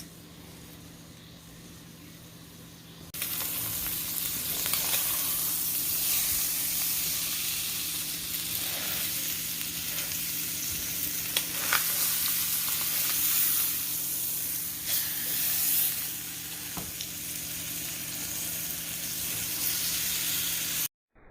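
Steaks frying in a pan beside melting butter give a steady, close sizzle and hiss that swells after a quieter start, with occasional spits and pops and no talking.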